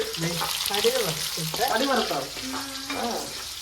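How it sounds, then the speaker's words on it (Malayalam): Shallots sizzle in hot oil with a steady crackle, while people talk over the frying throughout. "ഉള്ളി ഇട്ട് എണ്ണയിലേക്ക് കൊച്ചുള്ളി ഇട്ട്"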